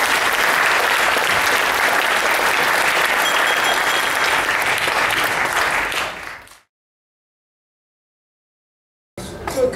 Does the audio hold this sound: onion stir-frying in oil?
no